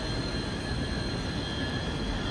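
Steady, dense ambience inside Glasgow Central railway station, a continuous broad rumble and hiss with no distinct events standing out and no voices clearly heard.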